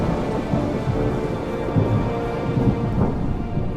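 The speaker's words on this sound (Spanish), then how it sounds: "seguidos por un estremecedor sonido de un trueno" Thunder rumbles through a thunderstorm with heavy rain pattering steadily on surfaces, a continuous loud low roll without speech.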